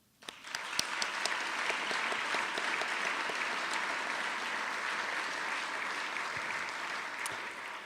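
Sustained applause from a large audience starts abruptly and continues steadily at full strength, dense clapping filling the room.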